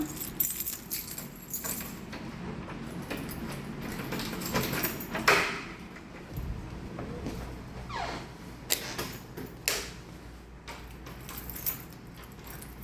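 Keys jangle close by indoors while someone searches for one particular key, giving intermittent metallic clinks and rattles with a few louder knocks and quiet gaps, with no talk.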